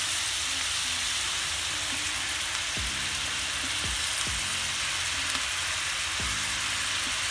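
Honey jerk salmon sizzles steadily in a pan on lowered heat, a dense, constant hiss with a few faint knocks and clicks scattered through it.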